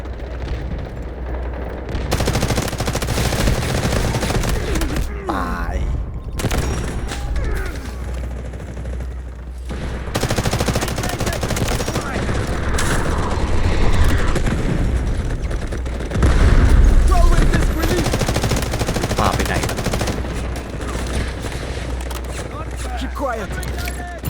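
Gunfire in the shooter Delta Force, rapid automatic bursts and booming impacts running loud and continuous, with someone talking over the action.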